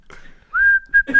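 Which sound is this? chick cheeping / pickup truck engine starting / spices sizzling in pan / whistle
whistle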